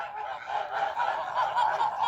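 A small flock of geese led by ganders, newly settled on a farm near their trough, honks in a dense, continuous chorus close by, with no talking.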